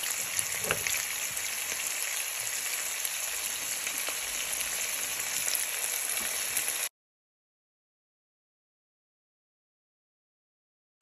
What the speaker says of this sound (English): so they get some colour on them and fry